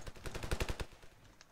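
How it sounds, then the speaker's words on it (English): Rapid automatic gunfire rattles in the video game Ravenfield, a quick burst of evenly spaced shots, moderately loud, tapering off toward the end. "you shot me in the back of the head"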